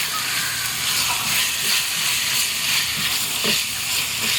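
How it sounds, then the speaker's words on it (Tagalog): Salted chicken drumsticks sauté in a hot pan, giving a steady close hiss and sizzle with occasional soft pops, no voices over it. "pag-isa-gisa lang tayo hanggang mag-brown na yan"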